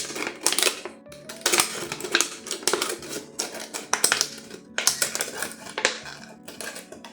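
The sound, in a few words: scissors cutting plastic bottle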